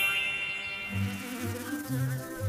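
A mosquito whines with a thin, high, sustained buzz that wavers in pitch as it moves, heard close and alone.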